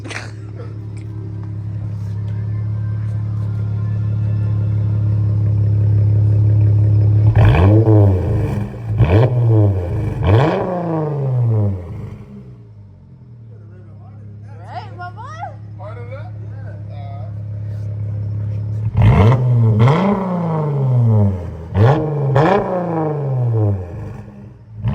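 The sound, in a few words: 2021 Dodge Challenger GT engine revving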